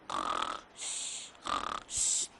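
A voice imitates a sleeping man's snoring with four slow, rasping breaths alternating in and out, close and fairly loud, with no other sound around them.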